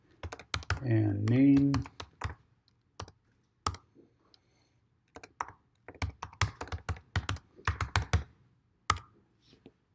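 Someone types a simple password on a computer keyboard, sharp, close key clicks scattered in uneven bursts, interrupted by a few spoken words.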